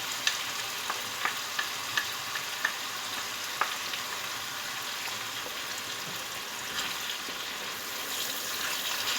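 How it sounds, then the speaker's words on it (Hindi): Masala frying in oil after cream and yogurt are added, a dense, steady sizzle close by, with a few light utensil taps early on and no talk. "और अब इसे अच्छी तरह से भून लेंगे।"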